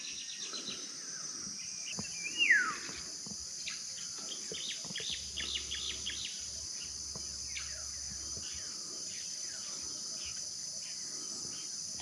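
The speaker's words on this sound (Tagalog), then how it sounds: "Wow, gaganda pa ng mga ibon ngayon." Birds call and chirp in open country at the foot of Mayon volcano near Tabaco City, with a steady insect or cricket drone underneath, one louder rising call standing out briefly and scattered softer chirps throughout.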